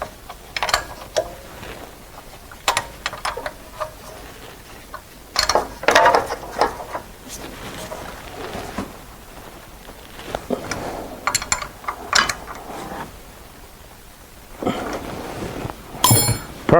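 Ratcheting wrench tightening A/C compressor line fittings on a Chrysler Town & Country minivan, with intermittent bursts of metallic clicks and clinks, close and moderately loud, separated by short pauses.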